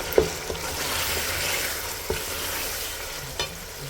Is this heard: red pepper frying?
yes